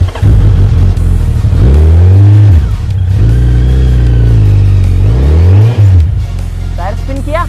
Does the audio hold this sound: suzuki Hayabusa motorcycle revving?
yes